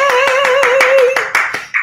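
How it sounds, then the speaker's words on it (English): About ten quick, steady hand claps in a row, close and fairly loud, over a sustained tone in the background, at a live show. "I'm clapping for you. We're all clapping for you."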